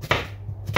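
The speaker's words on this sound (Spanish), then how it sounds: "Ahora vamos a picar una cebolla" A knife chops an onion on a board: two crisp, close cuts separated by a short pause.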